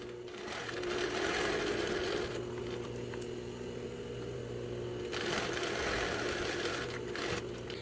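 A sewing machine stitches along the edge of stretched stretch fabric, its needle running in a fast steady mechanical whir that cuts out for a couple of seconds, then starts again, close and moderately quiet.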